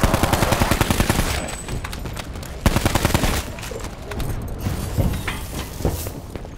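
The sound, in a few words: gunfire in Black Ops 4 Zombies, video game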